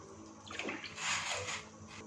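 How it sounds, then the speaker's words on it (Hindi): About 1.5 litres of water pours into a cooking pot for Persian zereshk pulao rice, making a steady rushing splash that swells midway and then tapers off, fairly soft and close, with no talking. "पानी को शामिल कर देंगे।"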